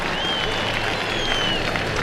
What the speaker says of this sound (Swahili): Tuongeze makofi wananchi tafadhali.